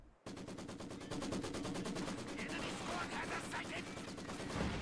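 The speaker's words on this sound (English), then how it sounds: "He's shooting at the trench, but he can't see the Osttrooper." Gunfire at a trench in the real-time strategy game Company of Heroes 2, with sustained rapid machine-gun bursts chattering continuously after a brief quiet start, fairly faint and steady throughout.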